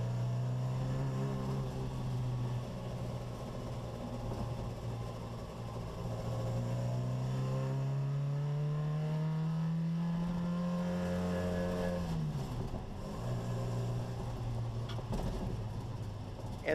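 A 1959 Sebring Sprite's engine drones steadily while driving, climbing slowly in pitch, then dipping sharply as its Ford Sierra 5-speed gearbox shifts into first before settling back into a constant hum.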